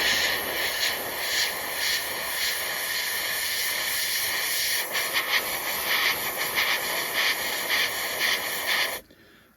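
Airbrush spraying deck tan paint across the wing of a 1/72 scale Airfix Commonwealth Boomerang model, a steady close hiss with slight fluttering, running alone for about nine seconds before cutting off.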